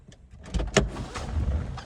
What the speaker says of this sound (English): power folding mirrors also